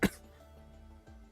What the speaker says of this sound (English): this cough's not going away.